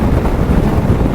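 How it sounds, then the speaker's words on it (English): A MotorHispania MH VIRO 350 maxi scooter runs at full throttle climbing an incline, its engine drone buried in heavy, loud wind rush against the microphone throughout. "We have a full throttle here going up the incline here."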